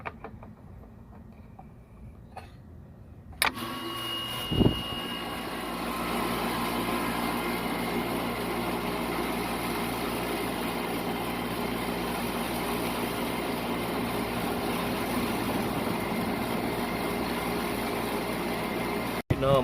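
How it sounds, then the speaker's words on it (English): An air conditioner compressor switches on after a quiet stretch, followed by a steady low hum and broadband whir that holds at an even level, close by. "Now my gauges are telling me that my compressor is running"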